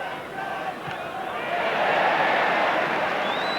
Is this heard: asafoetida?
no